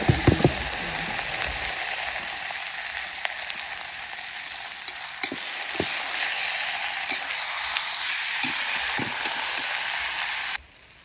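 Ground meat sautéing in a pan with garlic and onion, with a loud continuous sizzle and occasional scraping stirs and utensil knocks, cutting out at the end.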